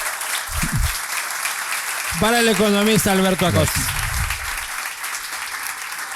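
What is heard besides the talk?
audience applause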